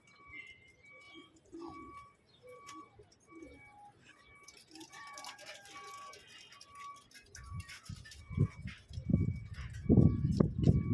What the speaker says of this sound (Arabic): طبعا انا دلوقتي فتحت للحمام، فتحت للحمام